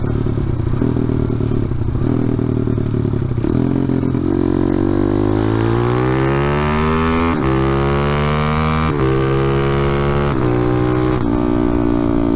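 A motorcycle on a fresh oil change with freshly set valve lash is ridden hard, its engine climbing through the revs in repeated pulls, clutchless speed shifts breaking each rising whine, loud and close throughout.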